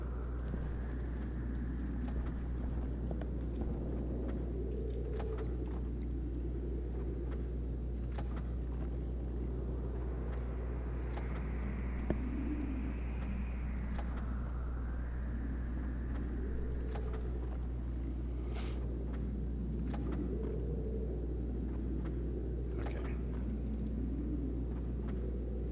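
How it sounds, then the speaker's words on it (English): A storm on Mars in the survival game Stationeers gives a quiet, constant low rumbling drone with slow swelling, whooshing tones that continues unbroken. "We've got a storm."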